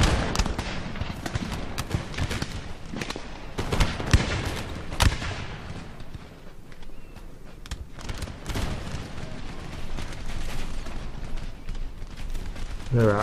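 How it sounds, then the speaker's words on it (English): Heavy musket volleys from a battle line in the strategy game Empire: Total War, with dense irregular crackling shots and occasional louder booms rolling continuously, no talk over them. "there's heavy gunfire coming from my line."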